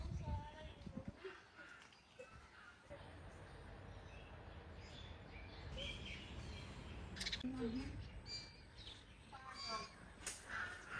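Flowerpecker birds at a small nest in a mango tree give faint, thin chirps scattered among rustling branches, while people talk close by.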